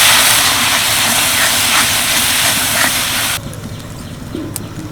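Spice masala with cumin and garam masala powder being sautéed in a pan for soybean kofta curry, giving a loud, dense hiss that runs steadily before dropping abruptly to a quieter simmer near the end.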